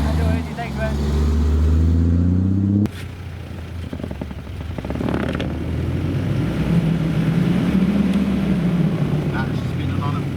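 A vehicle's wheels spin in sand on Ridge Ryder recovery tracks, the engine droning and revving loudly and unevenly close by, with people talking over it.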